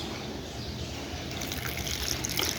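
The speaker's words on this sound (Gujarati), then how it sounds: "હવે આપણે આમાં જે ગોળનું પાણી મેં તૈયાર કર્યું હતું એ આપણે હવે ગાળીને નાખીશું." Strained jaggery water poured into corn flour for makai na vada dough, a steady close trickle of liquid that grows slightly fuller and splashier toward the end, with no talking.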